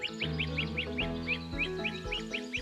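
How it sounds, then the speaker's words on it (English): A great crested flycatcher calling outdoors in Maryland, a run of quick repeated sharp notes, about a dozen in steady rhythm, heard over a sustained tonal background of music. "That deet, deet, deet, deet, deet. That's a great crested flycatcher."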